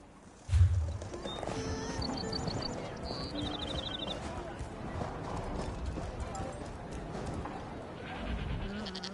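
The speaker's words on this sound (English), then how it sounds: "The horses are restless." Restless horses in a PS4 fantasy video game clip-clop and stir over a game soundscape, opening with a sharp low thud, then steady hoof and animal noises with high tonal chimes and some bleating-like calls, moderately loud throughout.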